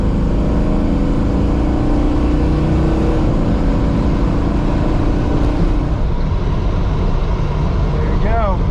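A tuned car's engine revs and pulls under acceleration on the road, a loud steady drone with rising and falling pitch, cabin noise filling the whole stretch.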